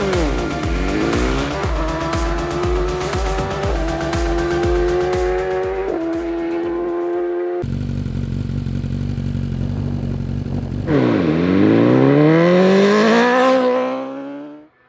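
A 2019 BMW S1000RR engine revs hard on a dyno, climbing through the gears with quick shifts, then a rising top-gear pull to a loud, screaming peak before cutting off abruptly.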